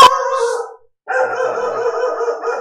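A dog barks and yowls close to the mic, two sustained strained howl-like bursts separated by a brief silence, with no talking.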